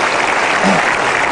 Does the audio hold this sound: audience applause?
yes